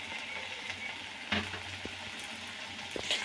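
Soft sizzling as tomato masala with chili powder fries over a medium flame in a pan, a steady gentle hiss with a few brief stirring knocks, close and quiet, no speech.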